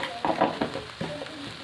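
Meal maker curry with chilli powder being sautéed in a pan, with soft stirring scrapes and a low sizzle in short uneven strokes, close and fairly quiet.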